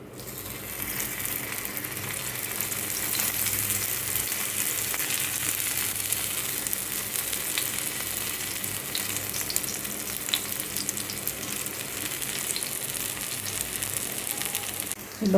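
Taro root slices fry in hot oil in a steady, dense crackling sizzle that holds even and loud throughout, with a faint clink near the end.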